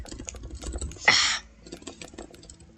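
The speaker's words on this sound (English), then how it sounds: "Don't mind my keyboard, it's kind of loud." A loud computer keyboard clacking in quick light keystrokes, close, with a short burst of broadband noise midway before the typing resumes, faint and scattered.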